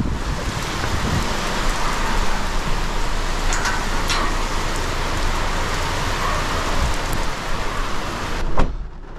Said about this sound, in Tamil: நல்ல மழை பொலன்னு பொழக்குது.